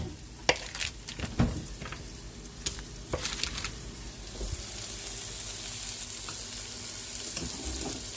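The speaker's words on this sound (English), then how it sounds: "Green peppers, sauteing the green peppers" Green peppers sautéing in a pan with butter give a steady, close sizzle and crackle, broken by a few sharp spatula scrapes and clinks early on, then settling into an even frying hiss.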